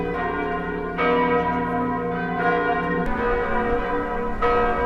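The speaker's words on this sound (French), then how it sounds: "Responsable sonne cloche toute cathédrale en France mercredi 17 avril" Bells of a cathedral in France ring loudly and continuously, with overlapping tolls struck at irregular intervals and a rich, sustained hum between strikes, no voices present.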